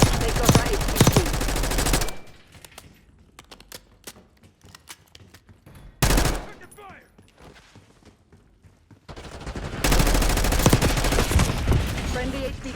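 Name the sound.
gunfire in Call of Duty: Black Ops 6 (video game)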